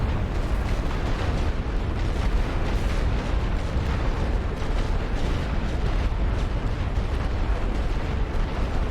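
Artillery fire in a World War I video game of the Western Front rumbles as a dense, continuous barrage, heavy booms blurring together into a loud, unbroken roar.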